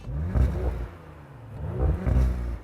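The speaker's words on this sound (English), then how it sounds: "Have you heard the new RS4 Audi? It sounds really bad." A new Audi RS4 in sports mode with the exhaust valve open revs twice, rising and falling, in a muffled, fairly subdued exhaust note with no talking.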